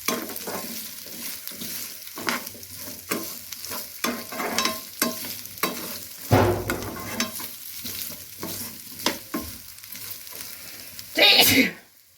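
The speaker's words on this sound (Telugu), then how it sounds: "పచ్చి వాసన పోయే వరకు ఫ్రై చేసుకోవాలి." Ingredients fry and get stirred in a pan for a gooseberry and turmeric chutney, with repeated scraping strokes over a sizzling bed, close and fairly loud, plus a brief cough-like burst near the end.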